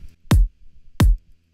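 A low, punchy kick drum produced in Ableton strikes twice at an even pace, each hit a deep, short thump with quick decay and nothing else audible.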